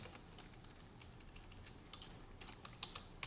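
Keys tapped on a computer keyboard, faint and sparse, with a few louder clicks toward the end over a quiet room hiss and no voices.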